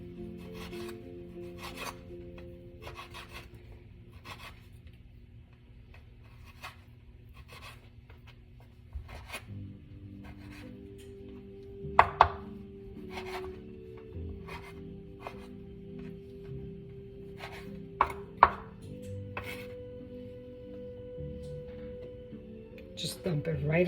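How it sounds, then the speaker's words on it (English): Knife cutting pancetta into little pieces on a board: a run of short, dry scraping chops in an irregular rhythm, close and moderate in level, with a couple of sharper knocks and a person talking over it. "And then you just cut it in little pieces."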